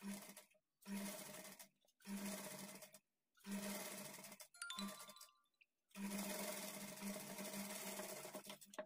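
Sewing machine stitching a blouse, running in several bursts of steady rapid whirring separated by short pauses, close and alone.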